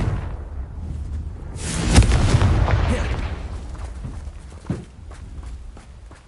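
A Confringo blasting spell cast in Hogwarts Legacy, a loud fiery whoosh and booming impact that rumbles and fades over a few seconds, followed by a smaller thud amid game ambience.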